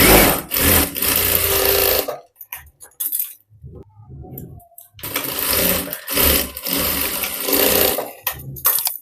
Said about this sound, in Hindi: ये चारों प्लेट में सिलाई लगा दी हूँ अच्छे तरीके से।